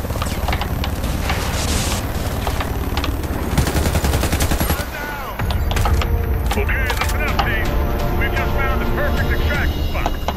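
Warface farming-level combat: loud bursts of machine-gun fire with dense overlapping shots and mechanical game noise, continuing almost throughout with a brief dip midway.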